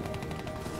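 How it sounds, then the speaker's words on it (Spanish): SVG sniper rifle firing in a video game, a dense loud blast of gunfire filling the whole moment with heavy booming reports. "el hecho de que dispare más lento hace que los tiros suenen más"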